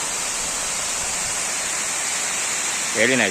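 Water overflowing from Yeliv lake near Satara pours in a continuous loud rush, with a voice briefly speaking over it at the end.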